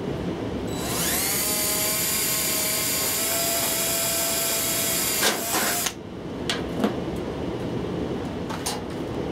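A power drill drives a number 8x1/2 sheet metal screw into an acoustical ceiling grid for a linear slot diffuser. A high whine holds steady for about five seconds, then cuts off, followed by a few sharp clicks and clatter.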